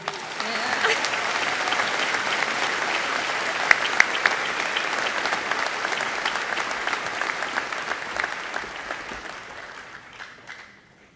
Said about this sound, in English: How about a big round of applause for Chloe and Caden?